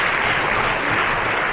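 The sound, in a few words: audience applause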